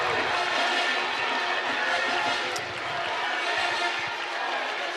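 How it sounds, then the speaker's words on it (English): Home crowd at the 2017 World Judo Championships cheering Hungarian judo athletes, a steady, dense roar of many voices filling the arena without letup. "Tremendous support here from the home crowd for the Hungarian athletes."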